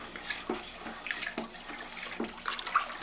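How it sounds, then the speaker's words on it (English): A homemade wine cooler mixture is stirred, giving sloshing, swirling liquid with light knocks against the container, close and continuous, with no one speaking. "Stir that up."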